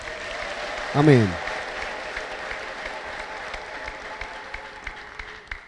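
Church congregation applauding continuously and steadily throughout, with a loud spoken response rising above the clapping near the start.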